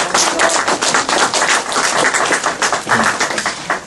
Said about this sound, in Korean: 좀 박수 좀 부탁드리겠습니다.